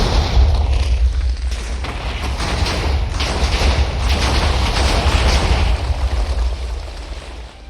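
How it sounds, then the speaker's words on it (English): A Minecraft cannon fires and explodes repeatedly, giving a dense, continuous roar of booms and blasts for several seconds, loud and sustained with no talking over it. "After seeing this cannon work, I was on track to use it to blow up the best base on the server."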